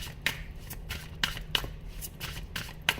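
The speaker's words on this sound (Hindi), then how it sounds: "पहले मुझे सारे कार्ड निकालने हैं" Tarot cards being shuffled and drawn from a deck, several crisp riffling bursts and snaps spaced irregularly over a quiet background, close to the listener.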